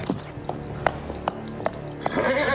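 Horse hooves clip-clop in a slow, steady walk, a handful of distinct strikes spaced about half a second apart on a riding arena surface, fairly close, with a brief rustle of movement near the end.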